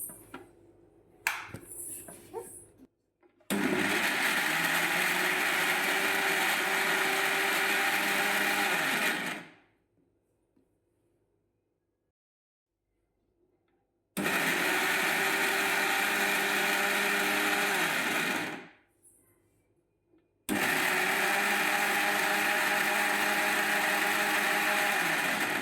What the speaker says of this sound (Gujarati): અને હવે આ બધી વસ્તુને આપણે ગ્રાઇન્ડ કરી લઈશું।